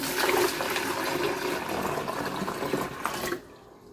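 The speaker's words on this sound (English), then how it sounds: "I will place boiling water about 1/3 to 1/2 full in this pitcher" Boiling water pours steadily into a pitcher nearby, a continuous liquid rush that stops abruptly near the end.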